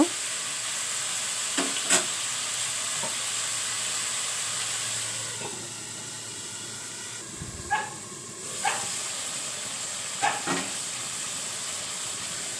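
Beef frying in a pan while being braised with spices shows up as a steady soft sizzle and hiss, with a few brief stirring scrapes and clinks and no talking.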